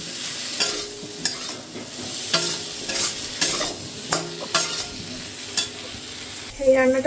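Paneer going into a curry in a pan and being stirred, with a steady sizzle under repeated sharp utensil scrapes and knocks against the pan, close and fairly loud.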